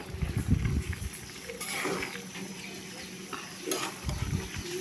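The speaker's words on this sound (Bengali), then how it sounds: "আপনারা ভিডিওতে দেখতে পারতেছেন আমরা সুন্দর করে নাড়াচাড়া করছি" Biryani is stirred in a pot over a medium-high flame in a village home kitchen, with rhythmic scraping and shuffling bursts and a faint sizzle underneath.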